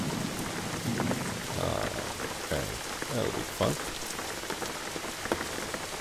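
Rain in the driving video game Jalopy, on roads in Yugoslavia: a steady, moderate patter of rain on surfaces continues throughout. Someone speaks briefly over it.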